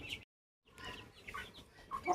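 Guinea fowl give short harsh calls close by, broken by a brief silence, with a louder burst of calling near the end and no talk.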